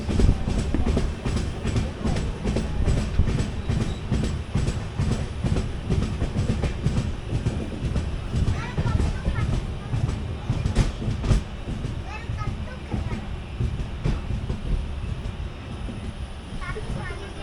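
Haripriya Express sleeper class train rolling on rails between Belagavi and Hubballi, with a steady loud rumble and rhythmic clickety-clack of wheels on rail joints throughout, and faint voices mixed in.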